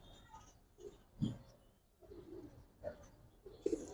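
Gorra pigeons of a black and red colour-bred fancy type make soft, low coos in scattered short bursts, close and fairly quiet over a faint background murmur.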